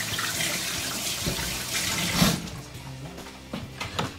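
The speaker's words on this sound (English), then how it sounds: "Let me rinse my hands first." Hands being rinsed under a running tap while preparing raw chicken in a kitchen, with a close, steady rush of faucet water that splashes and then eases off near the end, with no talk.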